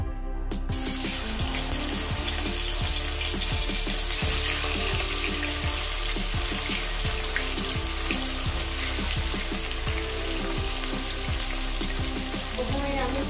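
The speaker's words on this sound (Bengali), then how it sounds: "ওই তেলে আমি দিয়ে দেবো এক এক করে মাছগুলো।" Fish frying one by one in hot oil in a home kitchen, a steady dense crackling sizzle that runs close and continuous from start to finish, with occasional soft clinks.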